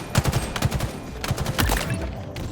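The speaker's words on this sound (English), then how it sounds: "you obviously hear other people shooting" Rapid gunfire in Halo Infinite ranked multiplayer, several weapons firing in quick overlapping bursts at moderate distance, steady and dense across the whole stretch with no talking.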